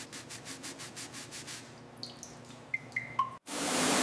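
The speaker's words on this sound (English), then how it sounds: "With some scrubbing, we'll reveal the clean steel underneath." Heavy rust is scrubbed off the steel seat frames of a 1923 Franklin Series 10 Sedan in a run of rhythmic, close rasping strokes, then a few sharp squeaks, before a sudden loud hiss of spray takes over.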